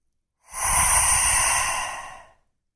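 One deep, roaring yogic exhalation through the open mouth with the tongue out, a breathy rush lasting about two seconds, close and alone.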